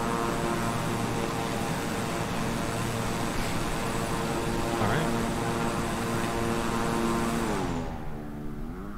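A Beechcraft 350i King Air turboprop in Microsoft Flight Simulator passes close by near Miami, its loud propeller and engine drone holding steady then sliding down in pitch with a Doppler shift as it recedes.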